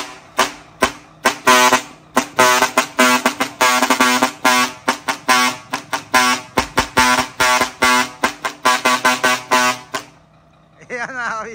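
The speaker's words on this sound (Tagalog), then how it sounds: "Ayan yung 3-feet natin na merong Kabisyo Express horn module" A 3-foot jet Inoue air horn mounted on a Howo tractor head blasts in a rapid, rhythmic pattern of loud, piercing honks for about ten seconds, then stops abruptly, leaving a short burst of different tones at the end.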